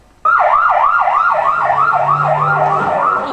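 Ambulance siren in played footage wailing in a fast, steady up-and-down cycle, loud and close, with a low motor rumble beneath and no talk.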